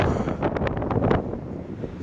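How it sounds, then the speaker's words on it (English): Strong wind buffets a hunting tree stand high in a tree near Antlers, Oklahoma, a loud, steady rushing roar with gusty swells over the short stretch. "I'm awful high up in this tree for this wind to be blowing this hard."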